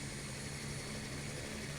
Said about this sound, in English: you are going to hear motor noise that represents the starting success of the engine.